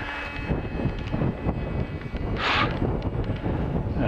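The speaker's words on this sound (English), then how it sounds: "It's a windy old day" Steady wind buffeting a microphone, a rough rumbling roar with gusts swelling and fading throughout.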